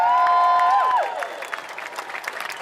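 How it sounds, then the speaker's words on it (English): At a Moral Monday rally, a high held whistle or cheer opens, then the audience's applause continues as lighter, scattered clapping. "Give yourselves a round of applause."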